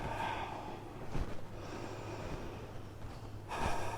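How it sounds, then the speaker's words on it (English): During a seated yoga practice, a person draws slow, deep breaths, with an audible inhale near the start and another full breath toward the end, close and soft against quiet room hum. "Maybe take a couple breaths here."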